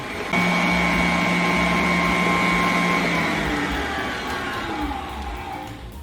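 An electric mixer beats vanilla pound cake batter on high speed, giving a loud, steady motorized whir that holds throughout with a slight drift in pitch and no talking.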